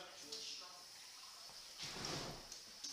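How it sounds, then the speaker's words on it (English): Cold water runs from a tap over capers being rinsed in a kitchen, a steady faint hiss with a brief louder gush near the end. "a little bit of cold water. You're going to rinse them"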